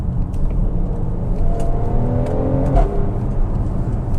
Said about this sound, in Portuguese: Mas é um V6, né, cara? Puta som de escape.